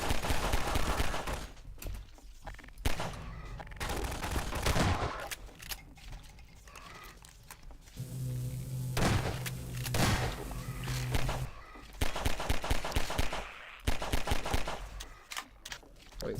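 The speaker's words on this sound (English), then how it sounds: "Wasn't expecting to be in a gunfight." A gunfight with Combine soldiers on a Half-Life custom Halloween horror map: bursts of rapid gunfire and single shots come in clusters, loud and close, separated by quieter gaps with thuds and footsteps.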